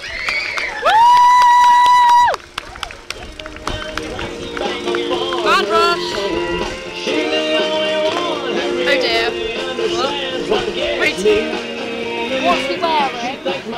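A crowd at a majorettes display cheers and shouts in a loud, continuous roar of mixed voices, preceded by a sustained whistle-like tone, with nearby people talking over the din.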